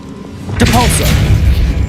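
Forceful Depulso force spell cast in the video game Hogwarts Legacy, a sudden loud booming burst with a whooshing swell that follows, coming in abruptly after a brief quieter lead-in.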